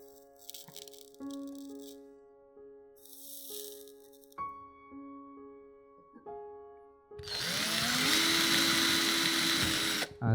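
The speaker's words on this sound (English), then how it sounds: "I'll drill a hole to route the antenna down through the base." A power drill bores a hole through a clock base, starting after a stretch of quiet clicks and faint tones, then running loud and steady with a whining motor for about three seconds.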